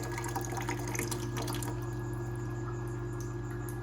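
A GE Profile Opal 2.0 nugget ice maker runs its pump as water filters through, a steady low hum with a faint high whine, and soft trickling and dripping over the first second and a half before settling into the quiet motor drone.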